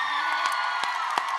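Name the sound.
audience applauding and cheering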